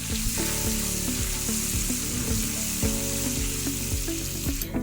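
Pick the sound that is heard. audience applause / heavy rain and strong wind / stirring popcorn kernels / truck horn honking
stirring popcorn kernels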